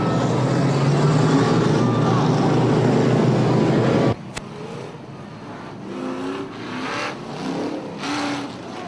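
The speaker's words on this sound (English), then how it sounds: "We're racing street stock style at the Full Throttle Speedway." Street stock race cars at Full Throttle Speedway roar loudly with dense engine noise. It breaks off abruptly after a click, leaving softer, more distant engine passes with rising and falling revs.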